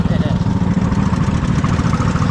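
A John Deere lawn mower engine idles close by, giving a loud, even, throbbing chug with a rapid pulsing rhythm throughout.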